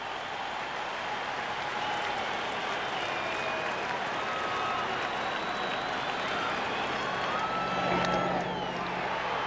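A packed ballpark crowd at an NLCS game between the Braves and Phillies cheers after a strikeout ends the inning, a broad sustained roar and applause with a commentator's voice running over it.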